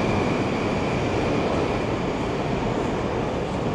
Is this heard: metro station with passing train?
yes